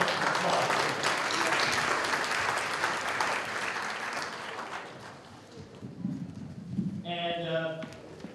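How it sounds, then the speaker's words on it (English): An audience at an MLK Day celebration applauds after a panel, a broad, steady wave of clapping that fades around the midpoint before a voice begins speaking over the room. "Give another hand of applause."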